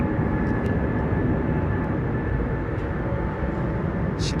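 An Airbus A320 airliner at London Heathrow Airport gives a loud, steady engine roar that holds unbroken throughout, close and dominant, with no voices.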